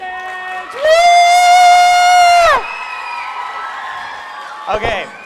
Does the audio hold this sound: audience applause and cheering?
yes